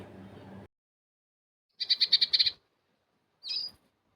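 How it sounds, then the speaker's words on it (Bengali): Small bird singing close by in short bursts: a quick run of bright repeated chirps, then a brief single call after a pause, with a faint low murmur at the start. "গান শোনা গান শোনা কিউট পাখির গান শোনো"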